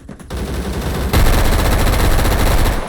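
A rapid burst of automatic gunfire from a gun in a shooting video game, loud and sustained. It opens with a few separate shots, then becomes a dense, continuous stream of rounds over a heavy low rumble.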